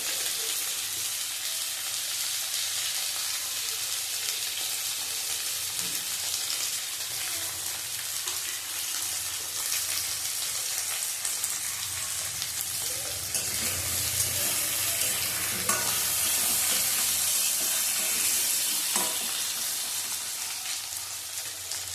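Hilsa fish frying in hot oil produces a continuous, even hiss of sizzling that swells slightly midway and runs without a break, with no voices over it.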